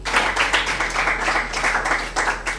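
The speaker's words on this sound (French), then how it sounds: "je vous demande une fois encore de l'applaudir." An audience at a Toastmasters club session in Abidjan claps, a dense burst of applause that continues steadily and loudly for a few seconds with no talking.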